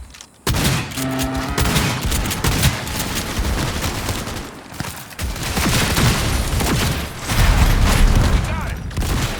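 Dense, loud gunfire in the video game Cyberpunk 2077, with rapid automatic bursts and heavy shots layered into a continuous barrage, mixed with mechanical clatter and game effects.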